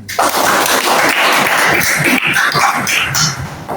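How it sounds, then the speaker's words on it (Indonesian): A short burst of clapping from a small group in a Catholic religious education class, close and lively, with some voices mixed in, lasting only a few seconds. "oke, tepuk tangan"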